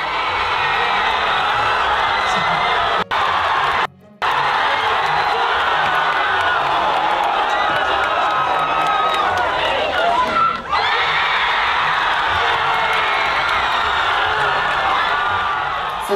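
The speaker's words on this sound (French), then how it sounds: "Il y a tout le monde qui crie, je vous jure." A packed cinema audience at a Spider-Man screening screams, whoops and cheers continuously, a loud dense crowd roar with a couple of brief dropouts.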